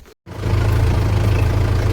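A tractor engine starting to run after a brief silence, then a steady, loud, close low rumble that holds evenly with no talk.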